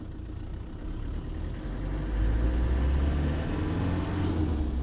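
A 1996 Land Rover Defender 110 with the 300Tdi diesel drives along, its low engine drone steady and close, rising slightly as it pulls after a gear change, with no voices.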